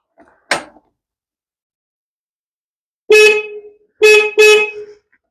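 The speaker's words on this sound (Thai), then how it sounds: "เอาเดี๋ยวจะกดแตรให้ดู ฟังสักหน่อย ฟังเสียงแตร" A tractor horn, the old original one, honks three times: one short blast, a pause of a few seconds, then a long blast and two quick ones close together, loud and near.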